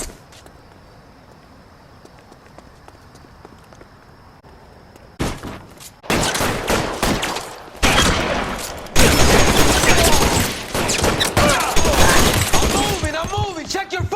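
Gunfire from the video game LA Noire Remastered: a quiet stretch gives way to loud, sustained volleys of shots in dense bursts, with brief gaps between them.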